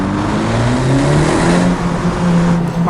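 A 2017 Honda Civic Hatchback Sport engine revs up loudly with a steady exhaust drone, the pitch climbing and then holding, close by with no talking.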